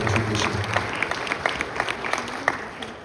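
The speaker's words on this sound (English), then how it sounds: "let's give a round of applause for Mr. Starzynski and what he's done for Albuquerque High" At an Albuquerque High alumni Hall of Fame ceremony, the audience claps for an honoree. Scattered applause with a few sharp, distinct claps fills a large room, and a voice murmurs briefly at the start.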